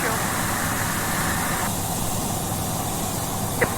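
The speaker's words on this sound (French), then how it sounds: "C'est peut-être le casque qui capte aussi les bruits du moteur." A steady, broad light-aircraft engine drone fills the clip, picked up through a pilot's headset during a VFR flight, with a brief click near the end.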